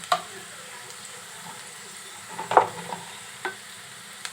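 Chillies fry in a pan while being stirred, for a snake gourd and egg fry. A soft, steady sizzle runs throughout, broken by a few brief scraping stirs that stand out near the end.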